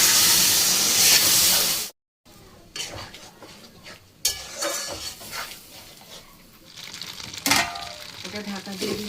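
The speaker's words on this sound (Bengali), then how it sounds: "এখন এই মিক্সি ধোয়া জল একটু দিয়ে দেবো" Loud hissing sizzle as water rinsed from a mixer is poured into a pan of snails frying with black and white mustard, then the sizzle cuts off and is followed by stirring and clinks of a utensil.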